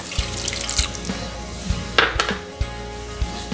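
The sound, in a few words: pouring water into masala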